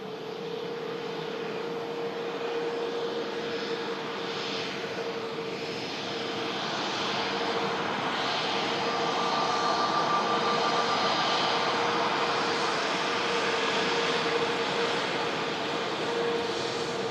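An EasyJet jet airliner arriving from Pisa at Manchester Airport gives a long, steady engine roar with a sustained whine, swelling gradually as it comes nearer.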